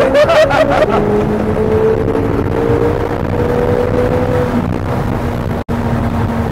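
A Corvette Z06 with a performance intake and exhaust accelerates hard, a loud, close engine roar with a rising tone that fills the whole stretch under faint background noise.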